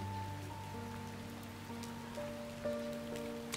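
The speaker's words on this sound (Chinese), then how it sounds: "下雨的夜晚" Rain falling on a night, a steady soft patter on surfaces heard alone at a moderate distance under a low, sustained musical drone.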